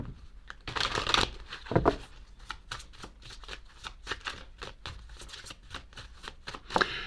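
A deck of chakra cards is shuffled up close for a tarot reading. Repeated papery riffles and slaps come in bursts of varying loudness, with no talking.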